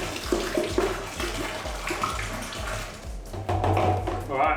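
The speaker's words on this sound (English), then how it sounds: "So what we really want to do is try and get as much aeration in as we're pouring it." Two liters of cider being poured vigorously to aerate it, a gushing, splashing stream of liquid that surges and pulses for several seconds and grows louder toward the end.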